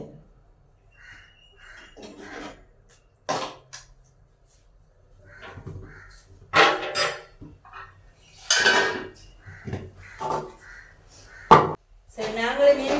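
A pot of fish curry with sprats, green mango and jackfruit seeds being stirred, with scattered clinks and scrapes of the spoon against the pot under a voice speaking.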